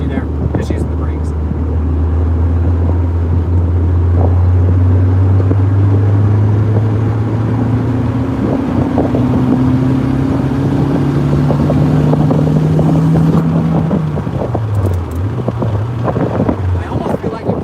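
A turbocharged Acura RSX engine on a dyno drones loudly and steadily, its pitch holding and rising in stages as it builds boost and VTEC, then dropping and wavering near the end.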